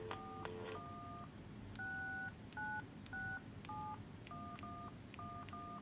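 A rapid sequence of dual-tone keypad beeps as a number is dialed on a cellphone, about a dozen short tones in uneven rhythm, clear and close with faint hiss behind.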